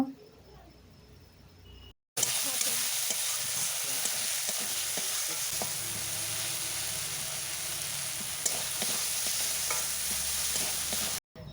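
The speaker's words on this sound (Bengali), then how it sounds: "এরপর দেব আদা রসুন বাটা আদা রসুন ভালোভাবে নাড়াচাড়া করে ভেজে নেব" Ginger garlic paste fries with tomatoes in a pan, giving a continuous close sizzle and hiss with faint scraping as it is stirred, cut off abruptly at the end.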